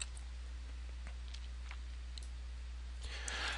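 Several faint, sharp computer mouse clicks on an ellipsis button during a Wonderware Historian backup, spaced irregularly over a quiet background hum.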